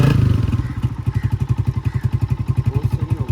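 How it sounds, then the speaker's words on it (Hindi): A scooter engine is revved up close by, its rapid, even throbbing pulses clattering loudly, easing slightly after the first burst and then holding steady. "ये स्कूटी पे भी चलता है। दो रेस दो, रेस दो मोहम्मद अली।"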